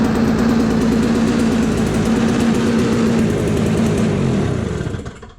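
A small engine with a freshly rebuilt carburetor, primed with the choke on, runs with a steady buzzing drone close by for several seconds before winding down and cutting out.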